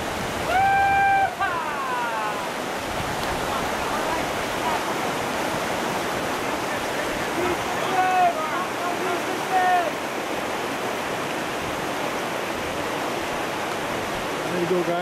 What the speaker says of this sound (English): A little bit more rough water down at the bottom there.